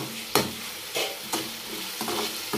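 Masala and tomatoes fry in a pan with a steady sizzle, while a spoon stirs and scrapes at a slow, regular rhythm, close and fairly quiet.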